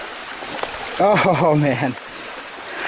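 Hiker wading through a stream on the Ganaraska Hiking Trail in spring: steady flowing and trickling water runs throughout at close range, with a voice speaking briefly over it midway.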